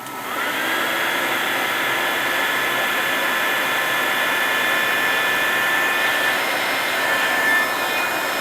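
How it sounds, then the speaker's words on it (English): A hot air gun blows steadily while powered from a HOPWINN Apollo P50 portable power station, a loud, continuous airy whoosh with a faint whine that holds even for the whole stretch, with no speech. "I have my hot air gun connected to the same socket."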